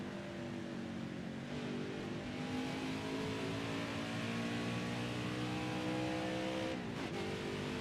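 Race truck engine roaring steadily on a qualifying lap in the NASCAR Heat 5 racing game, a loud sustained drone with shifting pitch and a brief dip near the end, no voices.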